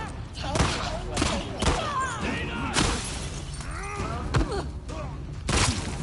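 Several sharp gunfire bursts and impacts from The Last of Us Part 2 recur through dense game audio, with chirping, sweeping tones and a voice beneath.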